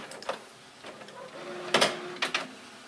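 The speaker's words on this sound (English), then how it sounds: "Now you can hear the printer firing up." A desktop printer starts printing a Word document sent from a Surface RT tablet, giving soft mechanical whirs and a few sharper clacking bursts against a quiet room.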